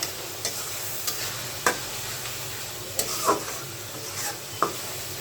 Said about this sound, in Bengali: আমি এভাবে কষাতে থাকি এর ভিতরে মাছটা গলে যাবে